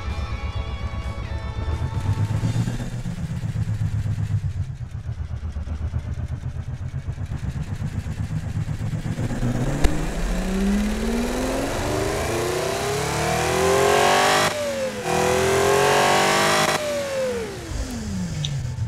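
An LS1 V12 car engine in the Automation game idles at about 700 RPM, then revs up in rising sweeps, climbing and dropping twice near the end, loud and continuous with no talking.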